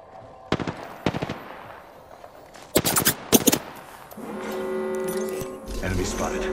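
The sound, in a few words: gunfire in video game Apex Legends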